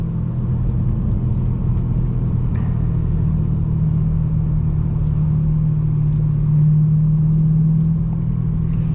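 A 2011 BMW M3 fitted with an IPE exhaust cruises steadily from inside the cabin, its engine a continuous low rumble and drone at even load throughout, with no talking.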